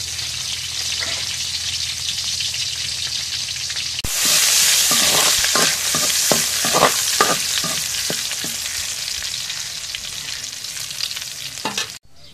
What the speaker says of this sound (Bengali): এখন রসুন জিরা ভাজা হয়ে গেছে